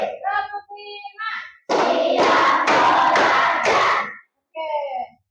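A group of children in a fifth-grade classroom claps loudly in a counted routine, a run of sharp unison claps mixed with shouting voices, with a teacher speaking before and after.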